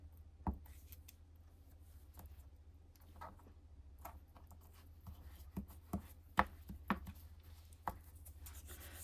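Scissors snip through paper and faux leather while a junk journal memory board is made: a handful of sharp, irregular cuts and clicks, close and fairly quiet, over a low steady room hum with no talk.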